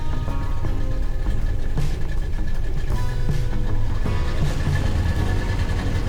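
A steady, loud motorboat engine drones throughout on the Vaal River, a continuous low rumble with a mechanical whine, no voices.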